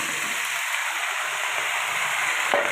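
Cut vegetables frying in oil with crushed garlic and bay leaf, a steady close sizzle and hiss in a pan with a faint clink near the end.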